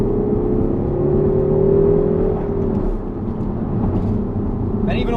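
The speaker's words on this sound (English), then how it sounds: "definitely more of a kind of raspy induction noise." Car fitted with a Comkotes Tuning TMSR3 air intake accelerating on a closed road, a rising engine drone with raspy induction noise that climbs then eases, heard up close from inside.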